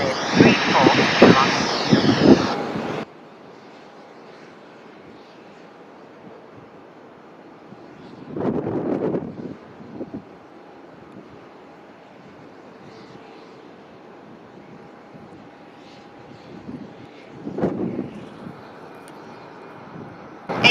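Airliner at Melbourne Airport during planespotting: a jet engine roars loudly at first and then fades to a distant hum, with brief wind gusts and radio talk from air traffic control.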